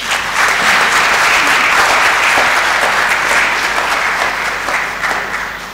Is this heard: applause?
yes